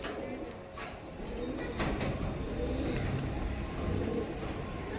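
A male Bhurra pigeon coos softly after being released, its low calls partly buried in a constant wash of broadband background noise.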